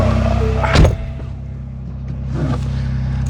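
A car starts up with a short sharp click and thump, followed by a steady low engine hum and a faint chime tone in the cabin.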